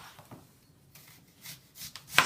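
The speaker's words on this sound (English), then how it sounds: "chopping some onions to be added later" Several quick knife chops through onions on a board, scattered and uneven, ending in one sharper, louder cut; quiet room, no talking.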